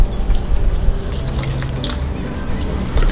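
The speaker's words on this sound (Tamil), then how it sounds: "இன்னும் ஒரு 1/4 டம்ளர் அளவுக்கு தண்ணி விட்டுக்கலாம்." Water poured into a mashed mixture in a cooking pot, a close, steady splashing trickle with small drips and liquid gurgles, lasting the whole moment.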